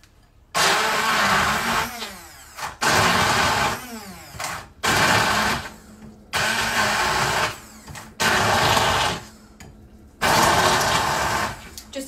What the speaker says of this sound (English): let's give this a good blend.